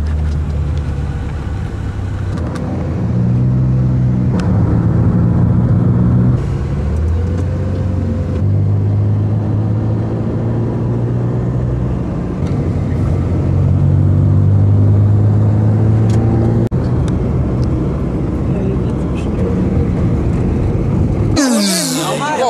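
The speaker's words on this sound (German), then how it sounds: "Das Taxi hat uns gut und sicher am Ziel angebracht." A taxi cruises along a multi-lane highway near Bangkok, heard from inside as a steady, loud engine and tyre rumble with gear-like tonal shifts, continuous throughout and ending in a brief handling noise.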